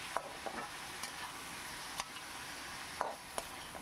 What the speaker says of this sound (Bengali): ভালো করে একটু আমার ফ্রাই করে নিতে হবে যতক্ষণ না আদা রসুনের কাঁচা ভাবটা চলে যায়